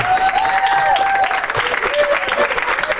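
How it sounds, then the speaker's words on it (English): An audience applauds an award winner at a ceremony, a short burst of dense clapping with voices and cheers mixed in. "Don't applaud for him."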